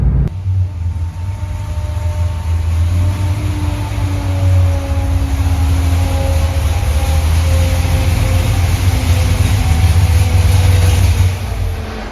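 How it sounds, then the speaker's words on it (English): A Chevrolet Corvette Z06 engine drones steadily as the car is driven slowly around the block, a continuous low rumble with a smooth, rising and falling tone under faint road noise. "So we'll take it around the block a little bit, drive it around a bit, and take it back to the shop"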